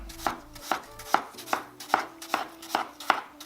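Knife chopping apples thin on a cutting board for cinnamon apple tarts, eight evenly spaced crisp chops in a steady rhythm, close and alone without talk.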